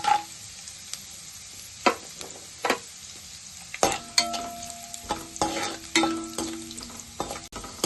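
Ginger pieces and cashews frying in a pan, a low sizzle under repeated scrapes and knocks of a spoon stirring against the pan, with no voices.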